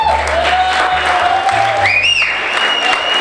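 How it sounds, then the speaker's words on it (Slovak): Loud applause from a crowd for the laureate at the Noc jazdcov 2016 equestrian evening, continuous clapping filling the hall with music playing underneath. "veľký potlesk pre laureáta"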